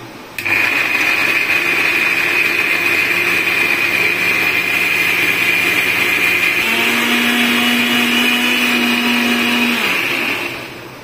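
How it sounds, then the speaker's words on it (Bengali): Electric blender grinding poppy seed, cashew, raisin and green chili into a paste: a loud, steady whirring motor that starts abruptly, shifts pitch partway through, then winds down, with no talking. "অনেকটা ব্লেন্ড হয়ে গেছে, তো এখন আমি আরেকটু জল দিব, দিয়ে এটাকে ভালো করে ব্লেন্ড করব।"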